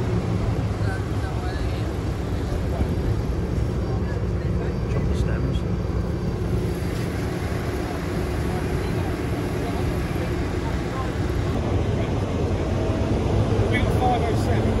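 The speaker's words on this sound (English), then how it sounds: "And a sunflower chopper." On a sunflower farm, the engine of a sunflower chopper runs with a continuous low rumble, loud and steady throughout with no pauses.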